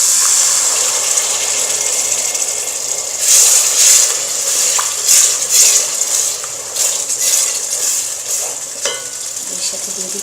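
Water splashed into spice paste frying in hot oil for a hilsa fish stew, setting off a loud steady sizzle with sharper bursts of spitting and bubbling as it boils up.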